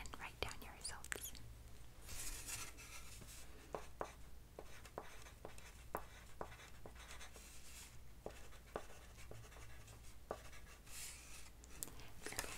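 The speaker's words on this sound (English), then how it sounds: "Let me just go ahead and write down your results." A pen writing down examination results during a cranial nerve examination roleplay, steady soft scratching strokes with sharp little ticks, close and quiet, alongside faint whispering throughout.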